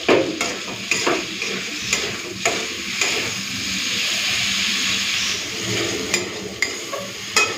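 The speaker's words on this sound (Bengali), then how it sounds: "তো চিংড়ি দিয়ে কচুরলতিটা ভাজা ভাজা করে নিয়েছি।" Taro stolons (kochur loti) frying with shrimp in a pan, a steady close sizzle broken by repeated sharp scraping stirs of a spatula, with no voices.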